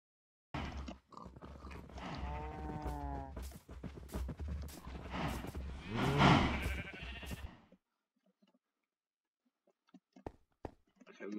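A cow in the Minecraft video game lows in drawn-out calls over people talking, then everything drops to near silence with a few scattered taps.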